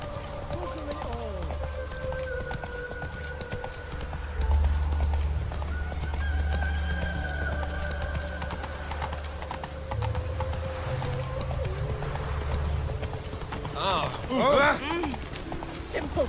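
Hoofbeats of a horse galloping in The Witcher 3, a steady clip-clop running through most of the stretch under game music and ambience, with a whinny and some spoken voices near the end.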